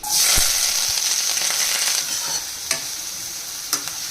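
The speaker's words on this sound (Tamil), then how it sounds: "நல்லா முக்கால்வாசி பதத்துக்கு வதங்கி வரணும்" Onions, green chillies, curry leaves, dal, mustard and cumin sautéing in a pan for egg fried rice. A strong hiss fades slightly as it goes on, broken by a couple of sharp stirring clacks, close and with no voices.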